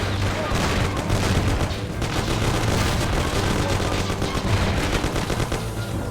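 Shootout in the Mafia video game: continuous loud machine-gun and rifle fire with booming shots, dense and relentless, while voices shout over the fighting.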